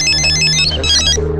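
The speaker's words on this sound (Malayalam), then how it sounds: "ബെല്ലടിക്കുന്നുണ്ട്." A telephone rings loudly and close by, with a bright electronic tone in quick repeated bursts lasting just over a second, heard alone without any talk.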